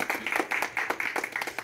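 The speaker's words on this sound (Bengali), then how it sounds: "একটা জোরে করতালি।" Short burst of clapping from a small group in a light-hearted studio setting, a quick rhythmic patter of hands lasting under two seconds, fairly soft and close.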